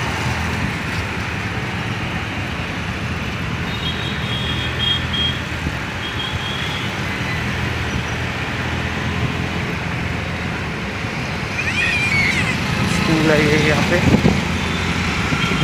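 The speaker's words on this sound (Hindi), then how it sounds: "ये देखो गाइस ट्रैफिक हैदराबाद का" Road traffic on a busy Hyderabad city street, a steady roar of engines and passing vehicles close by with faint beeps and horns, someone talking briefly over it.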